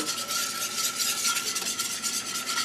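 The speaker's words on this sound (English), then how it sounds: "Stir it up." A spoon steadily stirs sweet potato Philly cream sauce in a pan, giving a continuous close scraping swish with a light sizzle underneath and no talking.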